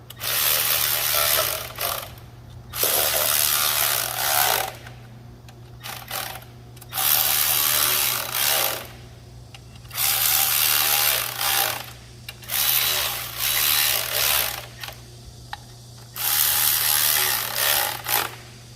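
Ratchet wrench lightly tightening bolts on a power tiller engine cylinder head, a run of rapid clicking bursts in five or six spells separated by short pauses, fairly close, over a steady low hum.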